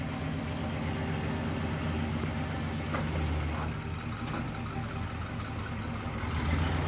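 A 1967 Pontiac GTO idling, its exhaust giving a low, steady, fairly quiet burble close by with no talk.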